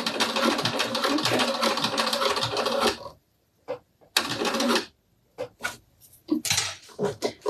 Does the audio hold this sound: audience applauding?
no